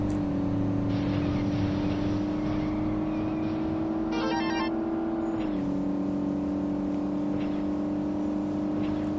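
Car engine in the racing game Midtown Madness 2, set in San Francisco, drones steadily at a near, constant pitch with a slight shift midway, running continuously without talk.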